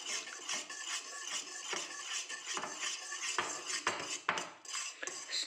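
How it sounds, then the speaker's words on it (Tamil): Fruit custard being stirred in a pan with a metal utensil, heard as repeated close clinks and scrapes against the pan that come irregularly over a soft background hiss. "மிக்ஸ் பண்ணிக்கிட்டே இருக்கணும்"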